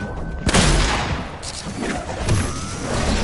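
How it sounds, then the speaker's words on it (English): Rocket launcher explosions in Fortnite, a heavy boom followed by further blasts and rumbling impacts in quick succession, loud and close. "Talk about spamming with the rocket launcher."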